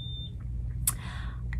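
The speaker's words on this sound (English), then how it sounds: "If you are hearing that terrible beeping noise" A single short, high electronic beep at the start, then faint clicks and chirps over a low steady hum.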